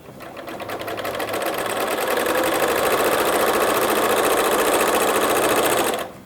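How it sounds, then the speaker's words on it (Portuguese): A sewing machine runs in one continuous burst, stitching the fabric lining of an Easter gift bag, its rapid mechanical whir building up and then cutting off abruptly, close and loud. "E costurar a outra parte."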